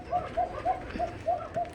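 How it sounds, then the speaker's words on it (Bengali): A pigeon coos in a quick, regular series of short throaty notes, about six calls in under two seconds, close by and fairly loud, as it resists being caught by hand. "এই তো প্রচণ্ড রাগী একটা কবুতর।"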